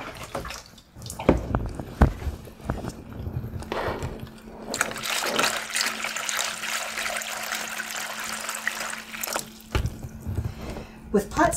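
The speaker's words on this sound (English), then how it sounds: "so let's put a little more water in there" Water pours and splashes steadily into a large potted plant's soil for several seconds, with brief voice and handling noises before and after.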